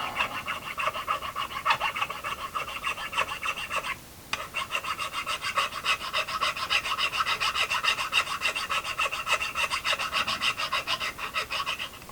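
Gun parts are filed with a hand file, producing a steady rhythmic rasp of quick back-and-forth strokes, close and loud, with one short pause midway and no talk.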